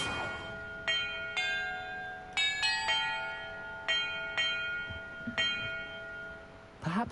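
Bells ring in a Hogwarts Legacy bell-order puzzle: roughly nine separate metallic strikes at differing pitches, each tone ringing and slowly fading, spaced irregularly at moderate volume.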